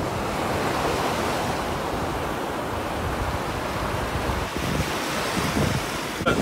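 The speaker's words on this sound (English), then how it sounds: "let those waves come" Heavy surf rolls and crashes continuously onto a beach, a dense roar of breaking waves with wind buffeting the microphone throughout.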